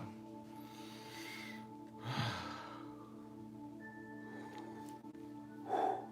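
A few breathy exhalations, one longer and heavier like a yawn, sound close over a steady electronic hum, with no words spoken.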